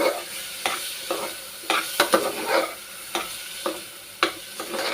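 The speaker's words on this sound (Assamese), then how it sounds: "এতিয়া চাউলকেইটা মই এনেদৰে অলপ সময় লৰাই দিছোঁ" Bora sticky rice grains are stirred and dry-fried in a pan until lightly browned for jolpan, with repeated close scraping strokes over a soft sizzle.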